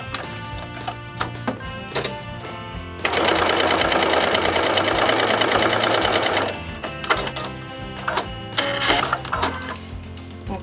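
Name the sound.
sewing machine stitching quilt block seam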